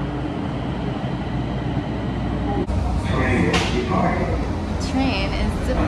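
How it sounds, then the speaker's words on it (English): A train departs a station with a low, continuous rumble of rolling cars. Partway through, a sudden shift brings louder rattling, squeals and clanks, and the rail noise stays close and heavy throughout. "Train is departing."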